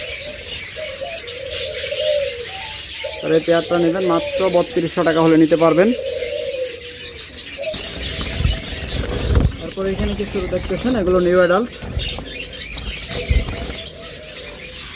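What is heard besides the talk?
pet birds calling in a bird shop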